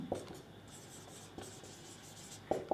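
Chalk or marker strokes on a board during a chemistry lesson, a few short scratchy bursts near the start, middle and end, close but quiet against a faint room hush.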